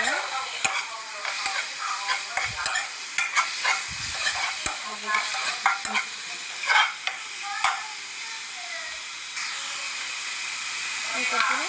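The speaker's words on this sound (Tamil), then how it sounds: "நல்லா வதக்கிட்டே இருங்க." Vegetables for veg momos sautéing in a pan with salt, a continuous bright sizzle and steam hiss broken by frequent spatula scrapes and clicks, close and steady, with no speech.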